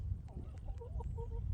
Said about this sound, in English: So Charles, being a Brahma Rooster, they're very big chook.